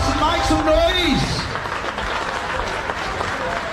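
An audience claps steadily at the Super Trowel plastering event, a dense, continuous patter of applause with voices calling out over it.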